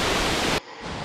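Jumog waterfall in Karang Anyar, a loud steady rush of falling water that fills the first half second, then drops suddenly to a quieter, thinner wash.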